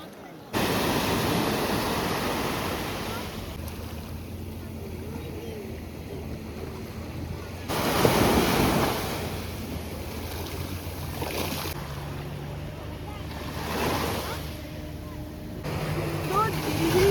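Steady washing sea waves at Corbyn's Cove beach in the Andaman Islands, with wind noise and light rain, continuous and moderately loud, with occasional swells of surf.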